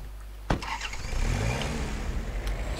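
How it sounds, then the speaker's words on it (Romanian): A car engine starts in the hunting video game Way Of The Hunter, with a sharp crank followed by a steady low rumble idling and revving lightly, fairly close and loud, with no talking. "Luăm mașina și mergem mai în față."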